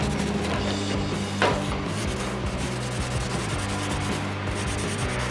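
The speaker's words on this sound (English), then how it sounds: "I think I'm gonna go through and just hit it with the sanding block real quick" A sanding block rubs back and forth over a BMW ram air intake in quick, scratchy strokes, close by, with steady low background hum and no voices.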